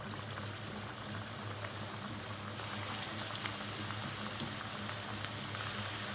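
Food fries in hot oil in a home kitchen, a faint, steady crackling hiss that stays even throughout and grows slightly brighter partway through.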